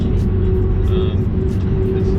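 A Subaru WRX drives at a moderate pace, its engine and road noise forming a loud, steady low rumble heard from inside the car.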